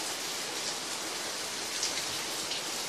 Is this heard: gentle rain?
yes